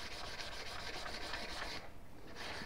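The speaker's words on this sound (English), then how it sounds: "So this is 400 grit, so this should be plenty of fine enough on this just to blend these in a little bit" A knife is sanded by hand with 400 grit sandpaper, the strokes running along the grain of the wood being worked. The rubbing is steady and close, with a continuous gritty scrape and a brief lull near the end.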